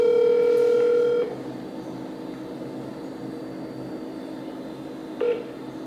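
A telephone gives a steady electronic tone for about a second, then stops, leaving quiet line hiss before a brief beep near the end.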